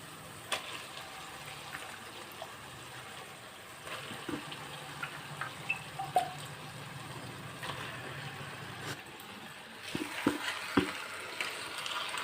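Chicken sizzles steadily in a pan with fried onion and ginger-garlic paste, a soft broadband hiss broken by scattered clicks and scraping knocks.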